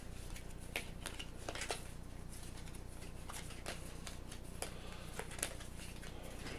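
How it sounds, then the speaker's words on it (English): Playing cards for the Aeon's End cooperative deck-building board game being shuffled by hand, a series of soft riffles and snapping flicks at close range, fairly quiet and irregular. "Time to shuffle up again."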